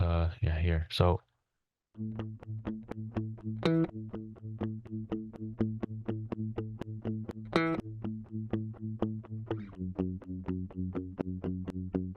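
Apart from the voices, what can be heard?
bass part played an octave higher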